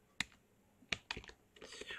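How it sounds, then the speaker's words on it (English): Typing on a computer keyboard while entering a search term on an ArcoLinux desktop: a few sharp, separate key clicks close up, followed by a softer cluster of quicker taps, quiet overall. "Okay, so I wanted to type anniversary"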